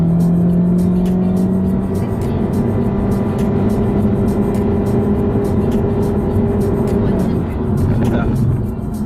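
A car engine with a CVT and an aftermarket BLITZ Power Con tuning module roars steadily and loudly, revving hard as it accelerates for several seconds in a quarter-mile run, with voices faintly audible beneath the engine noise.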